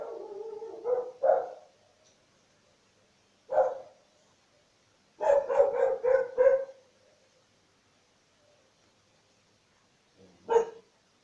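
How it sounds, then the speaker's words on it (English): A dog barks in short bursts: a pair of barks, a single bark, a rapid run of several, then one last bark after a pause, fairly close, with quiet gaps between. "Sorry for the noise, my dog is annoying"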